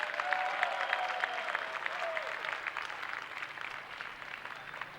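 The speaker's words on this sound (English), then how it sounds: "how about a nice round of applause for both fighters" Spectators at a professional boxing event at the Gosman Amphitheatre in West Palm Beach applaud both fighters, producing steady, moderately distant clapping with faint voices mixed in.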